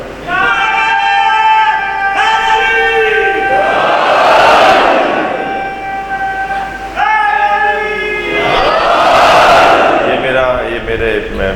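A crowd at a Muharram majlis chants religious slogans in loud, swelling bursts, two main waves of massed voices rising and falling over a sustained vocal drone.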